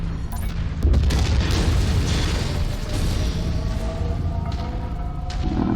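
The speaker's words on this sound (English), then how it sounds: "It's got a nice big explosion." A large explosion from the mech combat video game Mechwarrior 5: Mercenaries booms loudly and close, followed by a rumbling, crackling tail that persists at high level for several seconds.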